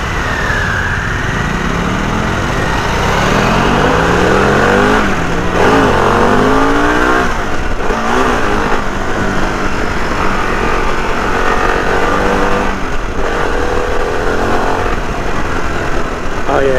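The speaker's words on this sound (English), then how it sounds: "Oh yeah, this engine is nice." A Harley-Davidson Pan America motorcycle engine on a test ride pulls hard and revs up and down repeatedly, a loud, continuous roar with wind noise and rising pitch sweeps throughout.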